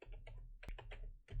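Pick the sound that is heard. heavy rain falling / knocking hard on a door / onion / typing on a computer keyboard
typing on a computer keyboard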